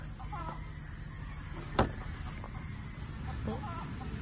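Chickens on a small farm give faint, scattered clucks over steady background hiss, with one short sharp knock partway through and no talking.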